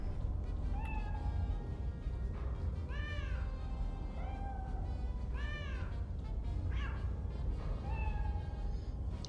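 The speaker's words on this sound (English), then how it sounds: "I like game devs that let you have a cat." A pet cat in the video game Iron Nest: Heavy Turret Simulator meows several times at a steady pace over constant background noise, with no talking.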